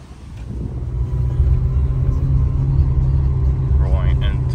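A Ferrari 360 with only 2,000 miles on it cruising on a highway, its engine giving a steady low rumble that swells slightly as it gets going, with no talk over it.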